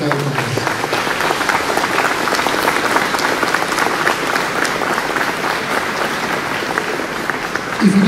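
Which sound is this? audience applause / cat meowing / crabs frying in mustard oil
audience applause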